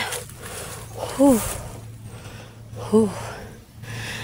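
A man who has been carrying harvested bananas alone in rural Mindanao, Philippines, pants heavily, with two short voiced gasping breaths standing out, close by, against faint outdoor background noise.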